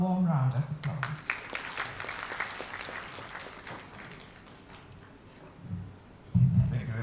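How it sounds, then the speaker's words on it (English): Warm applause from a conference audience welcoming a session chair to the stage, a dense steady patter of many hands fairly close, with a voice speaking briefly at the start and again near the end. "Let us welcome him with a warm round of applause."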